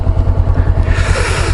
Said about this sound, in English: I got something revving.